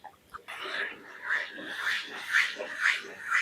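Masala spices of cumin and coriander powder being sautéed and stirred with a little water in a pan for a whole chicken curry, a close, rhythmic scraping and sizzling with regular strokes about twice a second.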